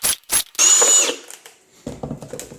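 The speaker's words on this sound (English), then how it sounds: "I'm just going to drill 4 holes in the top." A power drill whirs in two short bursts, then one longer steady whine while drilling four holes in a container top, followed by quieter clattering.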